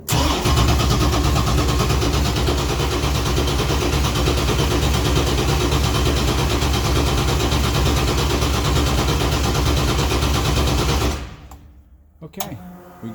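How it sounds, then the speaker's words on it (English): A Mustang with a newly installed torque converter, its engine cranked over to build oil pressure: a loud, steady, rapid churning drone that runs unbroken for about eleven seconds, then stops abruptly, leaving a few faint knocks. "I'm going to crank the engine around, get oil pressure"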